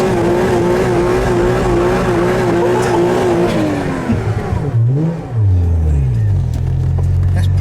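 Contera MD1 supercar with a 300-horsepower 1JZ engine driving fast, its loud engine note holding steady before dropping and sweeping back up as it shifts and accelerates, with tire noise, close and dominant throughout.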